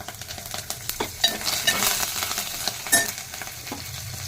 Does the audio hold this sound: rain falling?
no